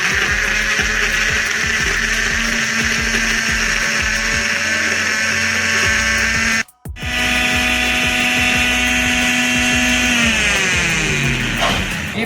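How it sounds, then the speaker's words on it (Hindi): A kitchen blender grinds a papaya milkshake, a steady loud motor whir with a brief cut-off midway, then slowing down and stopping at the end. "अब मैं इसे ग्राइंड कर लूँगा।"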